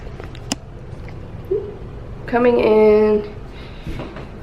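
The front door of an empty home swings open, giving one drawn-out creaking squeal from its hinge after a couple of soft clicks, with a light knock near the end, close by in a quiet room.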